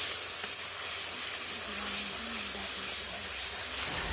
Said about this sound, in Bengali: এবার এই মশলাটাকে কিছুক্ষণ ধরে কষে নিচ্ছে।